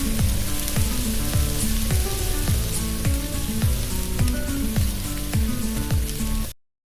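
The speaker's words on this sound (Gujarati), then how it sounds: "તો સરસ મજાના ગોટા અહીં તળાય છે." Gota fritters deep-frying in hot oil give a steady, dense sizzle throughout, with regular bubbling pops, close and loud, before the sound cuts off abruptly.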